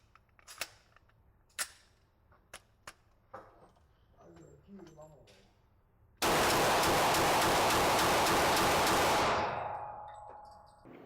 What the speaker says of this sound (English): we're going to load up 10 rounds into the magazine, and we're going to see just how controllable it is in rapid fire